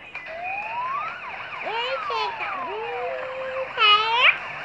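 A toy fire truck and police car play electronic siren sounds, sweeping up-and-down wails close by, with a warbling burst near the end.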